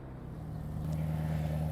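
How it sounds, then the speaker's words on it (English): Car engine in the Roblox-style driving game Driving Empire, a low steady hum that rises slightly in pitch and loudness partway through, heard alone. "I'm gonna stop freaking out about how good this car sounds"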